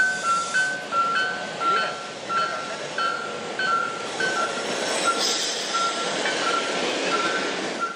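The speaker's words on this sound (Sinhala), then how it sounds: "අංක 591 දරන එන්ජිම සහිත දුම්රිය කොළඹ කොටුව දුම්රිය ස්ථානයේ සිට පැරෑලිය දුම්රිය ස්ථානය දක්වා ගමන් කළා" A train hauled by engine number 591 runs from Colombo Fort station toward Peraliya station, with a steady rumble and repeated short high tones sounding at intervals.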